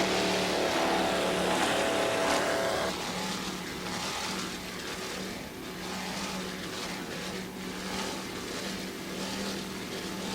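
An offshore racing powerboat with twin 700 hp Mercury engines roars at speed during an offshore race, a loud continuous engine drone with a steady tone, then dropping slightly and carrying on as wind and water noise.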